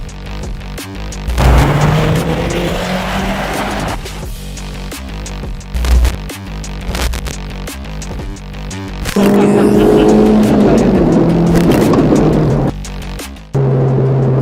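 Honda cars, including a Civic Type R FL5 and an EG6 Estilo, lapping the Sentul race circuit, heard from inside with loud engine drone rising and falling through gear changes, with a few thumps and brief gaps.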